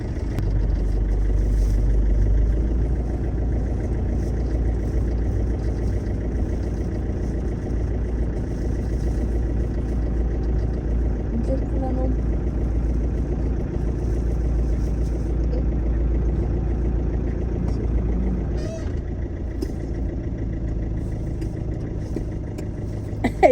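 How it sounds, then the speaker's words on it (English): A manual car's engine runs steadily throughout while it is being driven, a loud continuous low rumble with no voices, ending in a brief bump near the close. "You know, guys, driving a manual car,"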